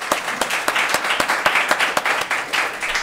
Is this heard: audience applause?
yes